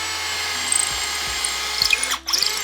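A Bauer 20V Hypermax cordless drill with new, sharp bits drills holes: a steady high motor whine with brief low thumps as bits bite, then a short dip and restart, close and loud.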